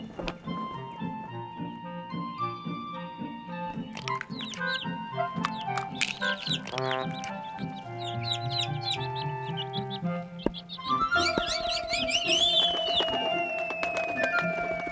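Cartoon chickens cluck over bright children's music in an animated Bible creation story, the fowl calls mixed into a busy score with other bird chirps rising near the end.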